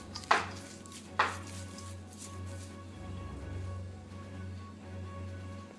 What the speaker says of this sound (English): I'm gonna mix all my ingredients together here